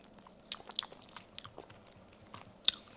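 Someone bites and chews a taste of dressing for a crab and shrimp salad, with a few sharp crunchy bites and soft mouth sounds close by in an otherwise quiet room.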